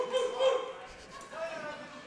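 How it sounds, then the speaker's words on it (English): A dog at a horseshoe-pitching event gives a couple of short, drawn-out, yelping barks, fairly faint amid background voices. "We got some barking."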